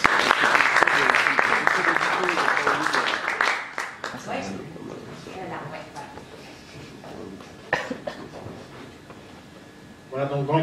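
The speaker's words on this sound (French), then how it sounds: "vous pouvez l'applaudir?" An audience at a business angels meeting applauds, dense clapping for the first few seconds that thins out, followed by talking voices and a few scattered claps, then a short burst again at the end.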